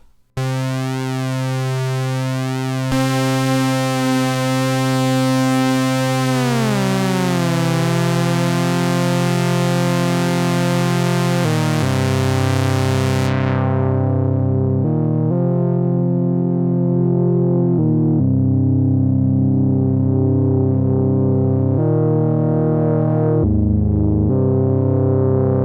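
A Behringer WASP synthesizer plays a loud, buzzing, raucous tone, a sustained harmonic-rich drone that sweeps and steps between pitches, with its bright top end cut away partway through before a series of abrupt note changes.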